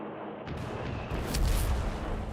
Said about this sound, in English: that's a lot of artillery coming in to contest this center VP